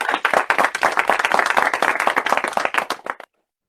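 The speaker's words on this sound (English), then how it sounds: "give our three speakers a splendid virtual clap" A burst of dense applause from a group at a webinar, many hands clapping steadily for about three seconds before stopping abruptly.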